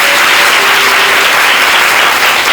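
A gathering crowd claps steadily through a devotional congregation's worship service, a dense, loud, continuous wash of applause close by, with no voices over it.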